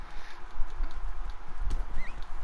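Horse hooves clip-clop in quick steps in the Red Dead Redemption 2 video game, a short rhythmic patter over a low game-world rumble, with no talking.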